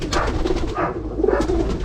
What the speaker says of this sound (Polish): A tu mój gołąb.